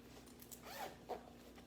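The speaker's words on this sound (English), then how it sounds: "this front window is also a zipper pouch" A zipper pouch on the front window of a travel bag is zipped open, giving a couple of short, quiet rasping pulls close by, with no talking.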